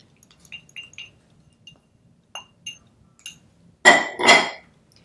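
Softened cream cheese and sour cream being stirred into a hamburger mixture: light clinks and taps of a utensil on the dish, then two louder scraping strokes close by.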